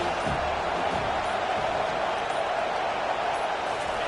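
A football stadium crowd roars in a steady, dense wash of noise during a game, loud and continuous throughout with no clear breaks.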